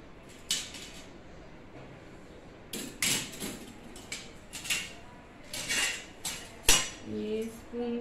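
Stainless steel parts of a five-layer wall-mount kitchen utensil and dish rack clink and rattle as they are handled. The metallic knocks and scrapes come up close in irregular bursts, growing busier toward the end, and no one talks over them.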